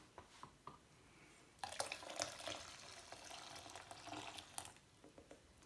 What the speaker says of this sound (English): now I'm going to pour that into the bucket of melted